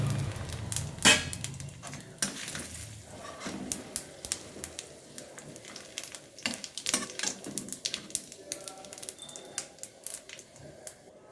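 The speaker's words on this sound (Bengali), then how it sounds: "তেল গরম হয়ে গেছে, আমি কিছু ফোড়ন দেব।" Whole spices for tempering a fish curry (bay leaf, cumin seeds, small cardamom, cinnamon and dried red chillies) crackle and pop in hot oil, giving a steady stream of sharp, irregular spits and ticks close by.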